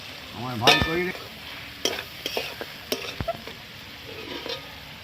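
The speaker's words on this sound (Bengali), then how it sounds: "আমি এবার আলুগুলো দিয়ে দিচ্ছি, কষে নেবো ভাজা আলু" Fried potatoes stirred into spiced masala in a pan produce a close sizzle with clanking spoon strokes against the metal and scattered scrapes, a sharp ringing knock early on.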